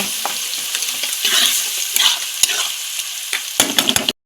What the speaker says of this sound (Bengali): অল্প জল দিয়ে মশলাটা কষিয়ে নেব।